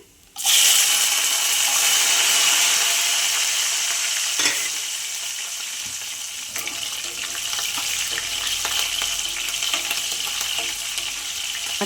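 Green chilies frying in a pan of hot oil for a chutney, a loud continuous sizzle bursting in at once and settling into a steady crackle with occasional stirring scrapes.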